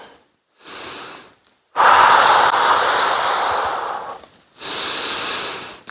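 A person breathes deeply during a Pilates workout with dumbbells: a short breath, then a long, loud, close exhale lasting a couple of seconds, followed by another steady breath.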